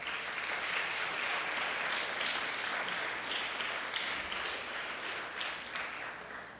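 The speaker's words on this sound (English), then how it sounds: "Please give them a round of applause." An audience at a secondary school graduation claps for the school music program, a sustained, even roar of many hands from a sizable crowd that fades slightly toward the end.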